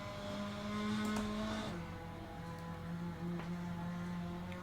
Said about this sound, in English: Possibly damaged the engine there by changing down too fast.